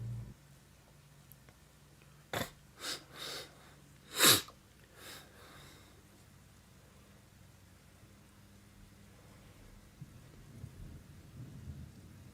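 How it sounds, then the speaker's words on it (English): Video game rain and thunder: soft steady rain hisses in the background while a few sharp cracks of thunder land close together near the start, then the rainfall continues quietly. "it's raining outside"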